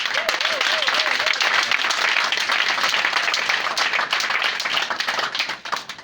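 A church congregation applauding, dense continuous clapping close by that fills the whole stretch and eases slightly at the very end.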